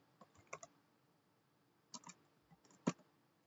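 Keys pressed on a computer keyboard to type a ping command, several short clusters of quiet clicks close by, with one louder keystroke near the end.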